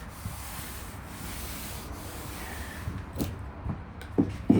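Finish rubbed by hand into a wooden table, a steady close, soft scrubbing friction that continues throughout, with a few light knocks near the end.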